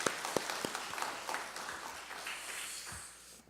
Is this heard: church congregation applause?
yes